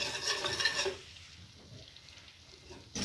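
Flour being stirred and scraped around a hot pan with a light sizzle, steady and close, with no talking, while making a roux for béchamel.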